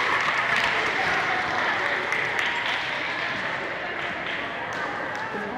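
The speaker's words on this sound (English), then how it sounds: "give her a round of applause" Audience at a kindergarten graduation ceremony applauds in a dense, even wash of clapping that continues at one level for several seconds with a faint crowd murmur beneath.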